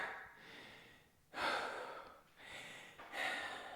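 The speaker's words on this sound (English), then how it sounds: "I'm talking a little bit and then I have to take a breath." Heavy, effortful breathing during a HIIT workout, with three loud gasping breaths through the mouth in slow succession, close to the microphone and heard alone.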